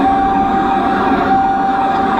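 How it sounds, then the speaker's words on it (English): Emergency vehicle siren wailing steadily and loud throughout, a sustained tone over road and engine noise with no talking. "Yeah, kill your sirens."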